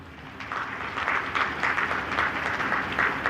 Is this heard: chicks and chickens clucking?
no